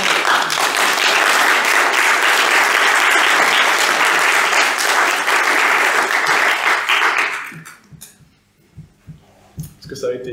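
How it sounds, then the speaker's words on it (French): Audience applause after a talk on gender identity and mental health at a 2023 mental health week event, loud sustained clapping for about seven seconds, then fading into scattered claps and quiet room noise. "On peut applaudir les gens"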